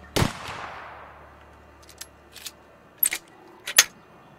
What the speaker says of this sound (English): this has the flip reload